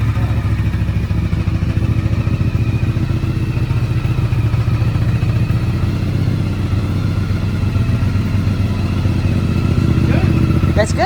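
A Honda VFR750 motorcycle engine idles cold, a steady low rumbling drone that holds an even level throughout, with people talking nearby under it.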